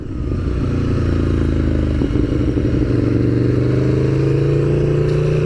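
An Aprilia V4 Tuono Factory motorcycle engine roars loudly and continuously as it accelerates, pitch climbing steadily, heard up close while riding with wind noise.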